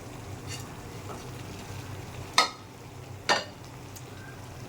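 Rohu fish pieces go into sizzling spice paste and oil, a low steady fry with two sharp splashy bursts as pieces drop in, then the sizzle continues softly.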